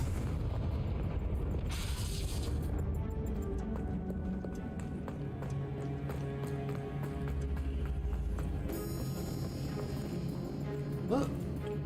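A Confringo spell blast in Hogwarts Legacy on PS5 lands as a booming burst inside a dense, continuous bed of game music and effects, with a voice faintly present.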